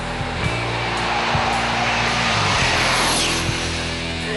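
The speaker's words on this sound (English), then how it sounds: "But jet-powered dragsters are way louder" A jet-powered dragster engine gives a steady, loud roaring whoosh with a broad hiss and a low rumble, holding constant throughout with faint intermittent thumps and no voices.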